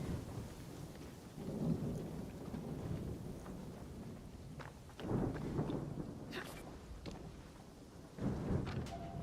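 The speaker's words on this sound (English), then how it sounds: "It's also apparently storm season." Thunderstorm in a video game, with steady rain hiss and repeated rolling thunder rumbles swelling at intervals, moderately loud and continuous throughout.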